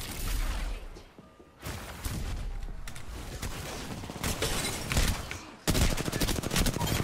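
Video game gunfire crackles in volleys of rapid shots, loud and close, broken by a short lull and resuming in dense bursts, with a heavy blast toward the end.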